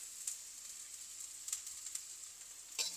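Bitter gourd fries in oil with a faint, steady high sizzle, broken by a few louder crackling pops and a stirring scrape near the end.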